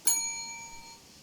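A single bell rings out in the hunting video game theHunter Classic, one clear metallic strike that hangs and slowly fades over about a second, alone and fairly faint.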